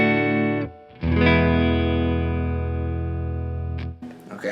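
An electric guitar played through effects with distortion and chorus rings out the Super Mario Bros. end-of-level cadence: a short chord, a long sustained chord, then a break and the start of another, loud and close.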